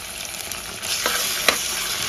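Ginger-garlic paste frying in oil for mutton boti biryani makes a close, steady sizzle that swells midway, with a couple of quick stirring scrapes and no voices.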